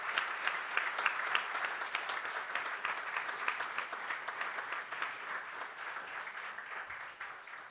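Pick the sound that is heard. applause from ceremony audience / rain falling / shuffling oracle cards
applause from ceremony audience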